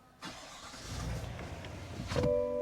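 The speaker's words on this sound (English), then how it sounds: "let's go ahead and start the truck for the sake of the video" A 2023 GMC Sierra 1500 AT4X AEV pickup starts up from inside the cab: a brief starter crank, then the engine catches and settles into a steady idle, close and fairly loud with no talking.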